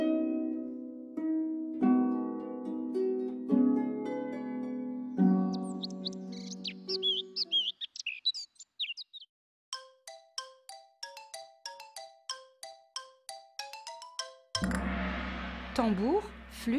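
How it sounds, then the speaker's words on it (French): Plucked harp notes give way to rapid, high-pitched chirps and trills of a warbler, repeated in quick bursts and ending in a bright, busy warble. "la fauvette a un chant particulièrement aigu"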